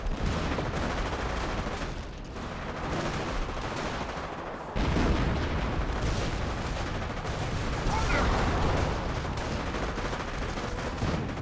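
A Hotchkiss artillery barrage in the strategy game Company of Heroes, a dense, sustained roar of overlapping blasts and rumbling booms that runs for the whole stretch, with a voice talking over it.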